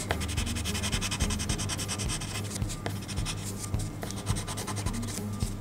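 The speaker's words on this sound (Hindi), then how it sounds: "जो पेंसिल कलर हैं वो जब हम भरते हैं तो आवाज़ आती है, मतलब इस तरह की" Colored pencils rubbed across paper while filling in a drawing, a close, quiet, continuous scratchy shading sound in quick back-and-forth strokes, with no talk.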